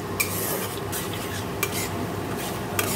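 Onions frying in oil in a kadai with whole garam masala and dried red chillies, a steady close sizzle broken by a few sharp scrapes and clinks of a spoon stirring against the pan.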